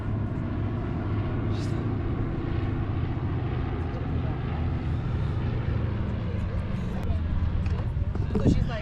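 A propeller airplane drones steadily in the distance while people talk over it.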